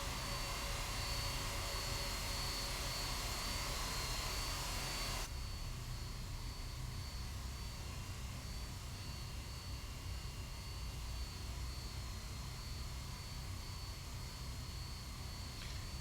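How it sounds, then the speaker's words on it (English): A Boeing 767-300ER taxis in the X-Plane 11 flight simulator. Its jet engines give a steady, continuous roar with a whine, fairly loud and alone, with no talking and a slight drop in level early on. "All right, folks, we are taxiing to runway 14 left as we speak."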